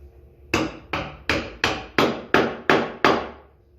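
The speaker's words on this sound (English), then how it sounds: "Wooden mallet or a rubber mallet is probably your best bet" A wooden or rubber mallet taps picnic table parts into place, eight evenly spaced solid knocks in a steady rhythm, close and clear with nothing else heard.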